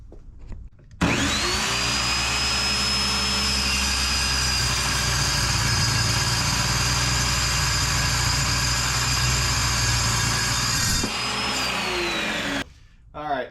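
A power tool cuts through a car steering shaft during an electric power steering install on an Ecoboost Foxbody, a loud, steady high-pitched whine running about ten seconds without a break before winding down.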